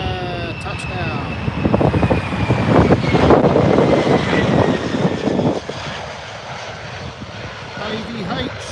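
A plane touches down at RAF Lakenheath, a US Air Force base, its engine roar swelling loud and broad before easing off, with voices talking over it.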